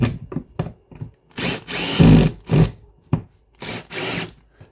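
A power drill drives screws into drywall anchors to mount a floating shelf, in several short whirring bursts that rise to longer grinding runs, close and fairly loud with pauses between.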